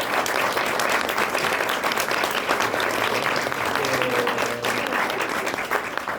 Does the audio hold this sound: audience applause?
yes